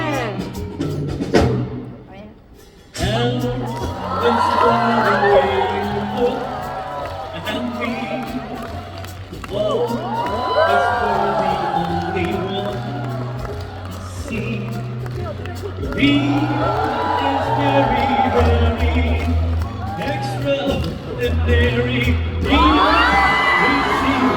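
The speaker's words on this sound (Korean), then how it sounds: "큰 박수로 환호로 맞이해 주시면 감사하겠습니다" A concert audience at a singer's showcase in Busan cheers, whoops and shouts over loud music, a large crowd's roar swelling in waves after a brief lull near the start.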